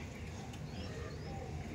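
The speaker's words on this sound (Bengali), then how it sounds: "এটা ছিল মাদি পায়রা" A female pigeon coos softly and faintly against a steady low background rumble, with the call fairly distant and quiet.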